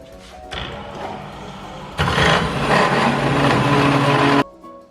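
A power saw cuts through metal mould walls with a loud, harsh grinding whine that rises sharply partway through and then stops abruptly.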